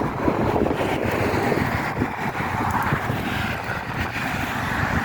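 Strong wind buffets the microphone in a constant, heavy rush of noise, with gusts rising and falling throughout.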